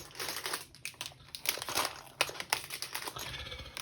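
Crinkly plastic wrap is peeled and torn from a chunky pack of Warhammer data cards, a close series of sharp crackles and rustling bursts at irregular intervals.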